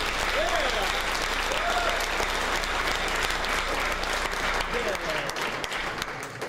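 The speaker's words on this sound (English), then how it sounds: "Everybody give Cord Kitty a round of applause anyway." A convention audience at the Furnal Equinox 2015 closing ceremonies applauds the winner of a fursuit dance competition, with thick, continuous clapping throughout and a few scattered whoops and voices mixed in.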